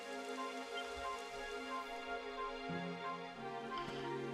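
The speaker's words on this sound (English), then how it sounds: "It would have to go and start raining, wouldn't it?" Faint, constant rain patter in the Dragon Quest XI video game, an even wash of drops under quiet game music with sustained tones and a few chord changes, no talk.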